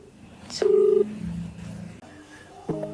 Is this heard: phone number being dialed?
yes